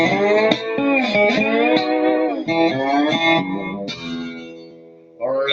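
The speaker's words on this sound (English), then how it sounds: "that chorus that we put in the transacoustic is so special on the nylon string" A Yamaha TransAcoustic nylon-string guitar rings out sustained, bending notes thickened by shimmering chorus and washed in reverb, played alone with a short pause before a final phrase.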